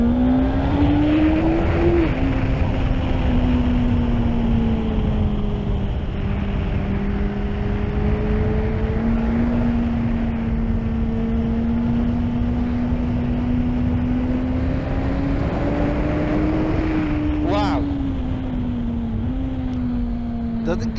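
A 2021 Suzuki Hayabusa motorcycle runs under hard throttle. A loud, continuous engine drone holds a fairly steady pitch with slight rises and dips, heard from on board under heavy rushing wind noise.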